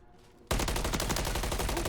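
Heavy rapid gunfire in a competitive shooter video game match, a loud sustained burst of dense shots erupting suddenly after a quiet half second and continuing without pause.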